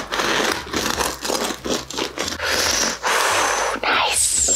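Knife sawing through the crust of freshly baked Portuguese bread, with close, loud crackling and crunching strokes in an uneven rhythm, brief pauses between cuts.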